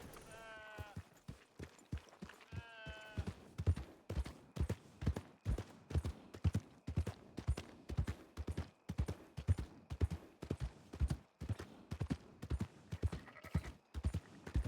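Horse hooves clip-clopping at a steady trot in a western role-play video game, a long run of sharp, evenly spaced hoof beats with brief game whinny-like tones early on.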